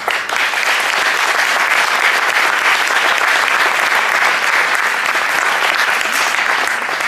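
Loud, sustained applause from a large audience at a Paris tournament gathering, honoring the directing committee; dense, even clapping fills the whole stretch without letting up.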